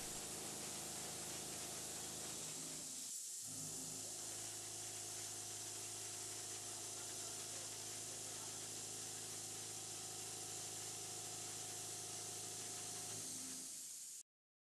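A Heptamill milling cutter powers through metal at a 5 mm depth of cut and 1 mm per tooth feed, giving a steady, loud machining roar with strong tonal hum that briefly drops out near the start, then runs continuously before stopping abruptly.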